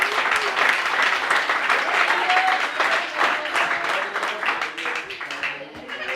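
A church congregation applauds the Lord during a sermon, loud sustained clapping from many hands close by, with voices calling out beneath it as it slowly tapers toward the end.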